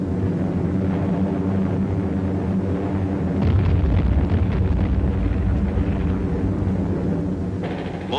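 Aerial bombing on Borneo in 1945, a dense low rumble of explosions with a heavier, louder swell in the middle, all heard through old, muffled archival sound.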